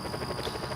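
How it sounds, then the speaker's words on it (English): Helicopter hovering in the video game Just Cause 4, a steady, even rotor drone with a faint high whine, continuous and moderately distant, with no voices. "That helicopter has been hovering there since late 2018."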